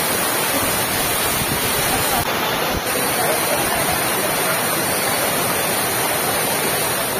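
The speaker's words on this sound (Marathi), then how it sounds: "तर खतरनाक असा धबधबा" The Wesvi waterfall in Konkan gives a loud, continuous roar of crashing water that fills the whole scene without break, close and overpowering.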